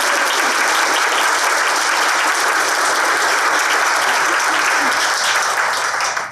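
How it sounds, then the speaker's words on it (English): Steady, dense applause from a conference audience at a women in nonprofit leadership event, loud and sustained without a break before fading slightly at the very end. "So I do want to give a special round of applause for Susan."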